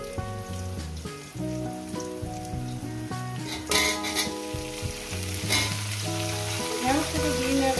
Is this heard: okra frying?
yes